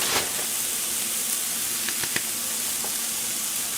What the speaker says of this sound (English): Okay, so I'm going to put this much kale.